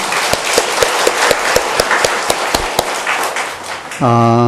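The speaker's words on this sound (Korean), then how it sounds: "우리 하나님께 감사와 영광의 박수를 드리겠습니다." A church congregation at a revival service claps in a quick, steady rhythm, sharp and fairly close. A sustained keyboard chord swells in near the end.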